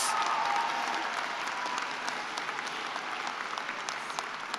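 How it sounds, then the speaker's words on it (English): A graduation celebration audience claps steadily throughout, a dense, sustained wash of many hands that begins loudest and tapers only slightly, with no talking over it. "Okay, let's clap now."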